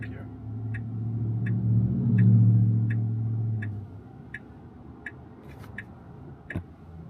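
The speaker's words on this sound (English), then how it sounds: "All right, so we got hazard lights on." Hazard lights of a Tesla Robotaxi tick in a steady, evenly spaced rhythm, faint and close, over a low rumble of the parked car's cabin, with people speaking briefly at the start.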